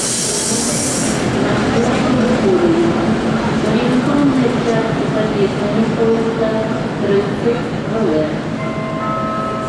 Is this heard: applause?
no